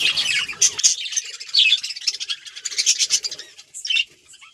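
Loud, harsh bird squawks burst out in rapid, overlapping bouts, close by, as birds fight over nesting pots, with scuffling and fluttering between calls.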